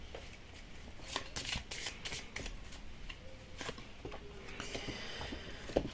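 Lenormand cards are shuffled by hand in quiet, repeated bursts of soft riffling and patter. The sound is close and faint, with no talking.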